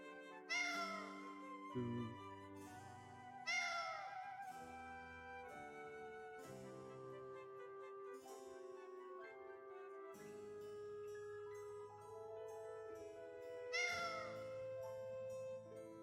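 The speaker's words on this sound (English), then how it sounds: "Captain Carol caught the cat" A cat in the Tales of Vesperia video game meows several times, short rising calls that stand out at intervals over layered game music.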